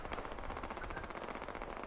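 Enemy automatic gunfire in Fallout 76, a rapid continuous rattle of shots at a steady rhythm lasting throughout, moderately loud and a little distant.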